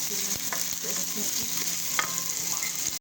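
Ginger sautéing in olive oil for fish sinigang with tomatoes, a continuous close sizzle with a few light utensil taps and stirring sounds.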